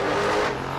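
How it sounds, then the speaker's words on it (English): A supercharged big-block Chevelle wagon drag car with a stick shift, heard at a drag strip during a race week, gives a loud, steady engine roar that eases slightly toward the end of the brief moment. "The Chevelle wagon, I love this thing. Big block, supercharged, stick shift."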